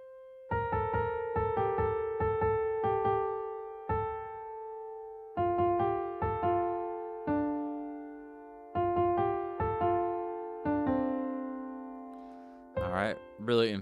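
Melody of a song played alone on a keyboard-like instrument, clear single notes in a walking phrase with brief gaps, close and moderately loud, a short pitch-bending sound at the end.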